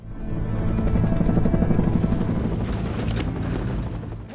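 Helicopter flying overhead to a forest wildfire site, a steady rumbling rotor drone that swells and fades across the few seconds with no talk.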